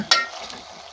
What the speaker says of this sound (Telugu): కర్రీ అయితే చేస్తున్నా